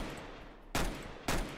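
Two sharp gunshots from a Tec-9 in the Roblox game Counter Blox, spaced about half a second apart, loud over a steady background hum.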